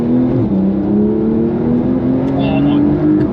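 Porsche 911 Carrera 4 GTS (992) with four-wheel drive accelerating hard out of a junction, its engine note rising steadily and loud from close by.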